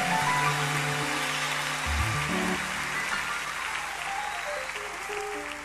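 A church congregation clapping to acclaim the Lord, dense sustained applause like a wash of rain, with held keyboard or organ chords sounding beneath it and fading slightly toward the end.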